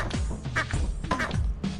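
Rubber duck squeaking quacks in the video game Lethal Company, several short squeaky honks in quick succession, fairly close and alone.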